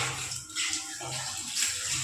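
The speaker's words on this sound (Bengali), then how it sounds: "একটু ধুয়ে নেব।" Tap water runs steadily while a kitchen is rinsed after being scrubbed with soap, a continuous close splashing hiss with small dips in flow and no talk.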